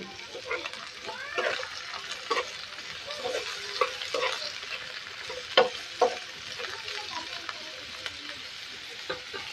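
Chopped onion and potato frying in a pan, stirred with a utensil that scrapes and clicks in irregular bursts over a steady near sizzle.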